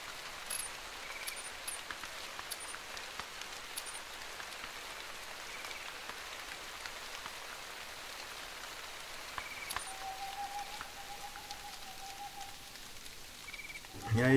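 Hunting game Call of the Wild plays a continuous wash of falling rain with scattered light taps, a brief thin tone midway and a short louder rustle at the end.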